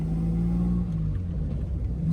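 A Jaguar engine revs during a double-clutch downshift, a deep steady rumble that rises and falls as the throttle blips, heard close from inside the car, with no one speaking.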